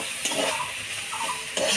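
Mixed leafy greens fry in a pan while a utensil stirs them, giving a soft sizzle broken by a few scraping strokes against the metal, close and moderately loud, with no talking.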